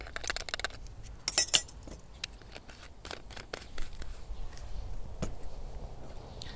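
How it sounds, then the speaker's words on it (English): A spoon stirs thiourea into warm water in a glass, making light clinks and taps against the glass at an irregular pace, close and fairly quiet. "Let's stir that up and dissolve it."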